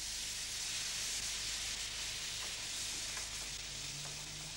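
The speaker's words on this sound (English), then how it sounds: "First, the trout is fried for about 7 minutes" Trout frying in a pan, a continuous, even sizzling hiss with light bubbling crackle, moderately close and heard on its own without talk.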